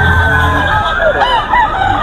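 A bulik gamefowl rooster crows loudly and steadily at a crowded gamefowl auction, with dense crowd murmur beneath the crow.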